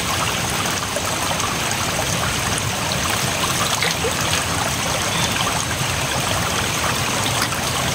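A mountain river stream flows in a steady, dense rush of water, loud and close, with no breaks across the whole stretch.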